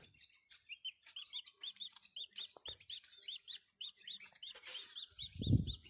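A flock of chickens chirps and clucks in a steady run of short calls, with a louder low thump near the end.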